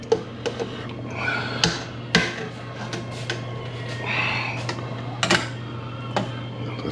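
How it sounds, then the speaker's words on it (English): Catfish stew stirred in a pot, metal spoon knocking and scraping against the pan in irregular clinks and taps, close and fairly loud over a low steady hum. "Stir it real good."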